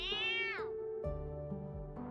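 A cat in the video game Kamikaze Lassplanes meows insistently, a drawn-out rising and falling meow followed by a second lower, longer cry, close and clear.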